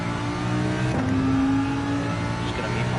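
Race car engine in Gran Turismo 7 accelerating hard, a sustained loud drone with a rising tone partway through, heard alone without talk.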